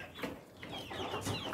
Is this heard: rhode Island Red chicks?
yes